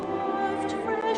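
A symphony orchestra plays the Caymanian song Beloved Isle Cayman, sustained harmonic string and ensemble tones forming a soft, even wash at low volume with no speech over it.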